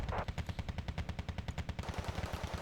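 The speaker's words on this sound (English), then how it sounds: "Another BMP shot is coming towards him." Rapid automatic cannon fire from a BMP infantry fighting vehicle in the wartime strategy game Wargame: Red Dragon, a steady rhythmic burst of shots for nearly two seconds, then a dense rumbling tail of fire, loud and with no voices.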